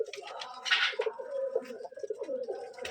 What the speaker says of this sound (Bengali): এটা রাজশাহী গিরিবাজ কবুতর।